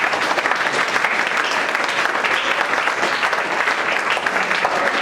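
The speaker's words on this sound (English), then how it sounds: "Clap for him." An audience at a school lecture hall event claps for a speaker, loud, dense and sustained applause that stays even throughout without any voices on top.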